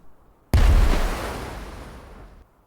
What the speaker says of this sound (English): Bimet throws her second grenade.